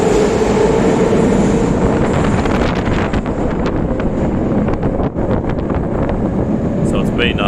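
A train approaching on a rail line, heard as a steady, loud rumble with wind buffeting the microphone throughout, building with scattered clanks and no clear voices.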